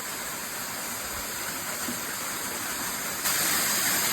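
Small waterfall beside a hiking trail, a steady broadband rush of falling water that stays constant throughout and grows slightly louder near the end, with no voices.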